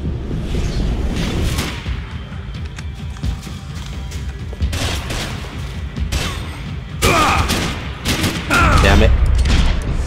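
Enemy gunfire in Max Payne 3 comes as dense bursts of shots and booms, loud and sustained, with a player's voice talking over parts of it.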